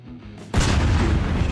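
A bomb from a Garry's Mod bomb mod detonates in a sudden loud blast, then a sustained roaring rumble; quiet ambience precedes it.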